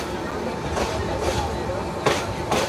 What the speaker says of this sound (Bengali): সরারচর রেলওয়ে স্টেশন ছেড়ে যাচ্ছে ঢাকা অভিমুখী আন্তনগর